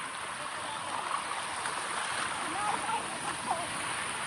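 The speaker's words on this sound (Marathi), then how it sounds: "तो धबधबा बघा, इथून धबधबा चालू झालाय." Small waterfall running steadily outdoors, a continuous broadband rush of falling water holding an even level for the whole stretch, with faint speech-like traces mixed into the flow.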